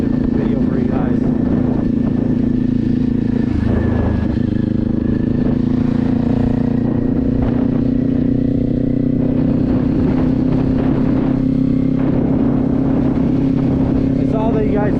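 A motorcycle ridden toward town on a beginner's first ride, its engine droning steadily and loudly throughout under rushing wind, with someone talking over it.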